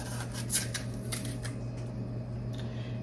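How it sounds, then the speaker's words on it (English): Aluminum foil crinkles and rustles in a few crisp bursts as it is pressed over a meatloaf in a pan, close and fairly quiet over a steady low hum, then settles into softer handling. "we're gonna cover it up with a piece of aluminum foil"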